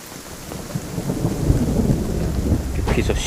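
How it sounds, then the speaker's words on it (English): Thunder rumbles low and heavy through steady rain in the survival game Undawn, a rolling boom swelling over a constant hiss of rainfall with scattered drops pattering nearby. "thunderstorm again."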